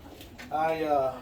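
A Birmingham Roller pigeon gives one short, soft coo inside a loft, close by, with quiet talking around it.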